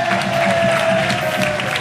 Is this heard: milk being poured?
no